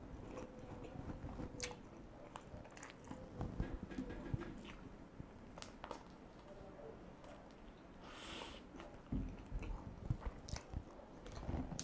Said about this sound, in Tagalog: Legit na lumalabas ang cheese pag kinagat.